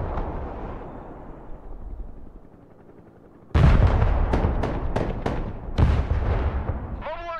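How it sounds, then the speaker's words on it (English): Artillery fires in the Broken Arrow war game: after a quieter rumbling lead-in, a heavy boom hits, then a rapid series of sharp blasts and cracks follows, loud and close with trailing rumble and no voices. "Artillery ready to fire, sir."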